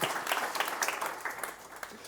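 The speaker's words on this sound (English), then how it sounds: "One more round of applause for our panel," Brief burst of audience applause for a panel at a digital banking forum in London, clapping fairly close and strong at first, then thinning out over two seconds.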